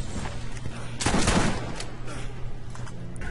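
Gunfire in the Borderlands video game, a dense burst of shots near the middle standing out briefly from a busy, noisy game backdrop, with scattered fainter pops around it.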